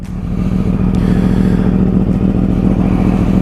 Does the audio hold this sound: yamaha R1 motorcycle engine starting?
yes